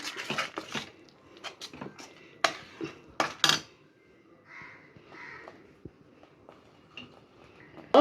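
A spoon scrapes and clinks against a pan while turmeric and curry powder are stirred into a fish curry, giving scattered sharp metallic taps with quiet gaps and faint background sounds between them.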